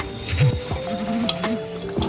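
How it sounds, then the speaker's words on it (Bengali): Three dried red chillies fry in a little hot oil, with a short close sizzle, small crackles and a few light clinks of a utensil against the pan, and no speech. "আমি এবারে এই তিনটে শুকনো লঙ্কা ভেজে নেব"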